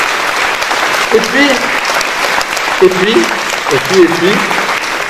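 Audience applause fills the room as a steady, dense wash of clapping, with a speaker's voice briefly heard over it near the end.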